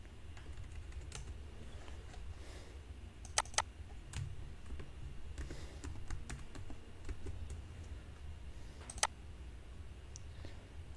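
Someone types on a computer keyboard, producing a steady run of quiet, close key clicks with a few sharper, louder taps mixed in, and no speech.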